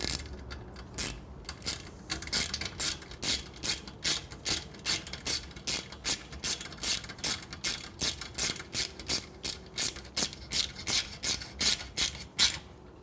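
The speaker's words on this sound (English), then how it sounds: "Tighten up the heat shield." A 5mm ratchet tightens the exhaust heat shield of a Shorty Predator Pro on a Triumph Bonneville T100/T120, clicking in a steady rhythm of sharp, close bursts, one stroke after another, with no talk.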